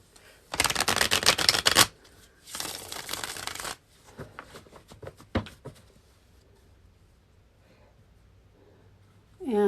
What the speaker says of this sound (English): And I'm shuffling for Marie West.